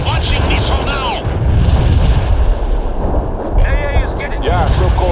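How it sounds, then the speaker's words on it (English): Missile launch and airstrike in the real-time strategy game World in Conflict: loud rolling artillery-like blasts and explosions over dense battle noise, with radio-style voices speaking over the action. "Launching missile now."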